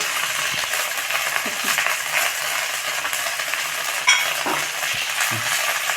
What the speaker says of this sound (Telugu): ఇప్పుడు మెంతాకి కట్ట వేసి వేసుకున్నాము ఇది బాగా వేగాలి